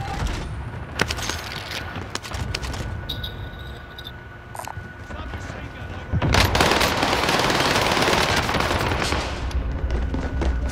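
Rapid automatic gunfire in Call of Duty: Modern Warfare, sharp repeated shots with a quieter stretch before a heavy, loud sustained burst fills the second half.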